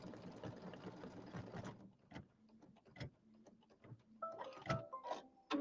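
An embroidery machine stitches a raw edge applique outline with a fast mechanical whir that stops, then resumes in shorter ticking bursts, faint and close, without talk.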